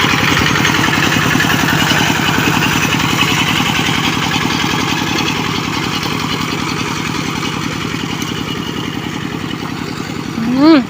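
Tractor engine chugging steadily while ploughing a rice field, a loud, close, rhythmic mechanical pulse with clatter running throughout, plus a brief high squeal at the very end.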